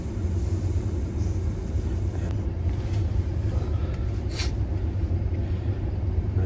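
A car engine idles while warming up on a cold day, a steady low rumble mixed with wind buffeting, with a few faint higher blips over the drone.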